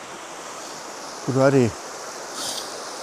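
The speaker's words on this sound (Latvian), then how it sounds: "Esam atnākuši dzupītei mazai," A small mountain stream in the Tatra Mountains near Siwa Polana flows with a steady, soft, close rushing hiss, briefly interrupted by a short spoken phrase.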